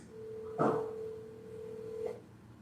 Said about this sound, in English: You dialing the wrong number, Jag.